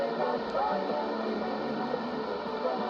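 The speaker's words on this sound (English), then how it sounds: "You can hear there's static." Static on a semi-weak shortwave signal at 15.140 on wide bandwidth, a steady hiss and crackle with a faint, muffled broadcast underneath, moderately loud and continuous.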